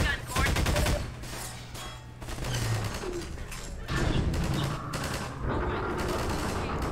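Rapid, loud gunfire from the shooter game Half-Life 2 in the Pipe Dreams stretch rattles in repeated bursts for several seconds, automatic fire close up with short gaps between volleys and a voice talking now and then over it.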